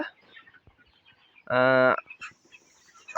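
Broiler chickens in a poultry farm where birds have been dying: a single drawn-out squawk stands out clearly among softer, scattered clucks and rustling.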